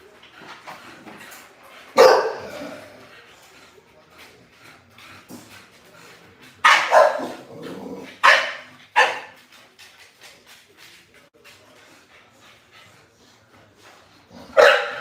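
American Bully dogs bark in loud, scattered bursts, a few sharp single barks and short clusters spread over the stretch, with quieter yips and rustling between them and no talking.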